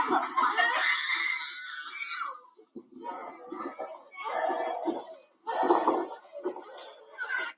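Screaming from a played clip: several shrill, strained bursts of loud voices rise and break off across the stretch, with rougher crying or laughing sounds mixed between them.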